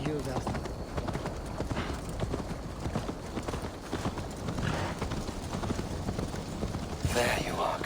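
Horses gallop across the ground in Assassin's Creed Valhalla, a dense, continuous drumming of hooves close by, with shouting voices over the pounding throughout.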